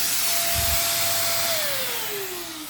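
An Enchen V1 vacuum cleaner running close by, a loud steady whoosh with a whining motor tone that holds, then slowly drops in pitch.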